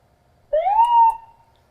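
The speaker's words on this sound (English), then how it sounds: "We also have our siren here." Short single siren whoop from an ambulance, a quick rising wail that holds briefly and fades out, loud and close with silence around it.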